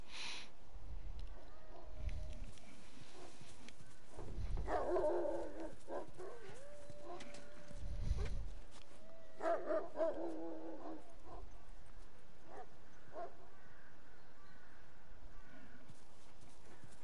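Dogs in the video game The Last of Us give several short, separated barks and yips at moderate distance over a low game ambience, with a steady tone sounding briefly between them.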